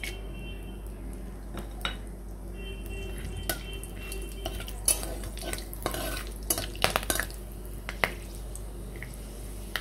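Whole cardamom, cloves, cinnamon and a few peppercorns dropped into a hot pan for a restaurant-style shahi paneer: soft sizzling with scattered clinks and scraping knocks of a utensil against metal, moderately close, no talk.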